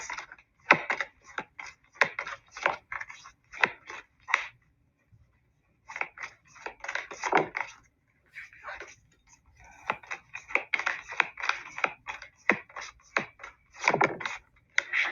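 Close-up bursts of rapid oracle card shuffling, crisp riffling clicks in several rounds separated by short pauses.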